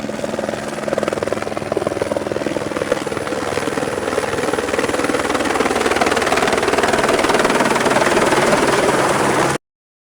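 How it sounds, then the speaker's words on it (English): A helicopter flies nearby, its rotor producing a steady, dense chopping thrum that grows slightly louder over about nine seconds before stopping abruptly. "Helicopter."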